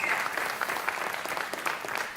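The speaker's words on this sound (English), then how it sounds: "Let's thank them again with more like a Super Bowl clap." A church congregation gives a hearty round of applause, a dense, steady clapping that stays loud and continuous from start to finish.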